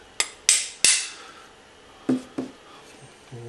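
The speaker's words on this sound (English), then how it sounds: "use a hammer" A hammer taps a tight-fitting part into a prop blaster replica: three sharp, bright strikes close together, then a pause and two duller knocks, all close and fairly quiet in a still room.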